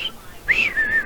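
A person whistles a tune imitating a scene from a Spider-Man movie, a short, clear, sliding whistle close up, rising then settling into a held note.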